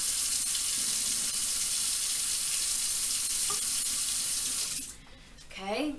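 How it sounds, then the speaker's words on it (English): Hot water streams steadily into a lab cup as a bright continuous hiss for several seconds, then stops abruptly, with a brief voice right after. "So now I'm going to add 200 milliliters of hot water to the cup"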